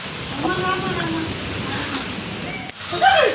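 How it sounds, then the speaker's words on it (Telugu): Heavy rain pours down outdoors in Jagtial during stormy weather, a loud dense hiss of drops hitting surfaces that continues steadily throughout, with a brief dip before it swells again. "ఇప్పుడు చాలా వర్షం అయితే పడుతుంది మన జైత్యాల"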